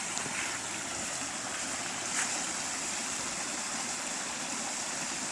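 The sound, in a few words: rain runoff water flowing in little waterfalls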